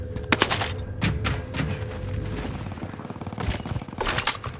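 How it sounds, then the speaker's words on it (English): Rapid bursts of video game gunfire crackle repeatedly, with sharp volleys near the start and end and steady rattling shots in between, loud and close with no talking. "There was guys shooting."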